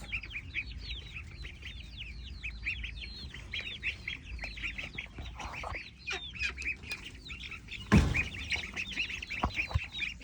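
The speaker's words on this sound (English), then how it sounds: "you can see my little duckies and all of my chicks." Ducklings and chicks at a chicken coop chirp and peep continuously in a dense, high chorus, with occasional louder clucks and a sharp knock near the end.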